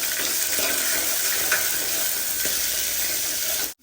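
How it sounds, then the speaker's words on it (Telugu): Onions frying in a pan for an instant upma mix, a dense, loud and even sizzle close by, steady throughout before cutting off abruptly. "మాయిశ్చర్ లేకుండా పూర్తిగా అబ్జార్బ్ అయ్యే వరకు ఏ కూర అయినా అలాగే వేపుకోవాలి"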